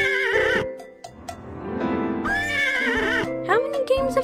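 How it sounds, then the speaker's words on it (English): A cartoon horse neighs and whinnies in the Pajama Sam 4 video game, a loud, wavering call rising and falling over a few seconds, with voices talking around it. "Nice horsey."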